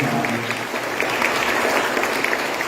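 A congregation applauds the catechists at a First Communion service in church, a full, even roar of many clapping hands heard close and continuous, with a voice fading out at the very start.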